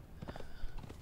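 A horse's hooves beat rapidly in a Conan Exiles game scene, a short burst of quick, fairly faint clip-clop strikes at a gallop.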